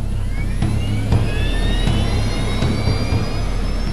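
A TWA jet airliner's engines spool up for takeoff at night with a loud, steady roar and rising whine, heard alone and continuously from inside the aircraft.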